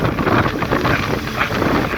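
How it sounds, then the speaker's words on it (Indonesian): A strong evening wind buffets the microphone on a riverside beach, a continuous loud rushing roar with no pauses for the full two seconds. "angin yang lumayan kencang, angin sore yang enak"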